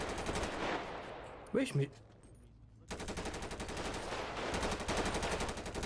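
Rapid machine-gun fire rattles in a video game as bullets hit the player, sustained bursts before and after a brief pause, while someone briefly speaks over it.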